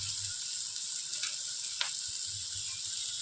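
Kashmiri chilli powder and spices fry in hot oil with a steady, soft sizzle, broken by a couple of brief scraping stirs, no voices.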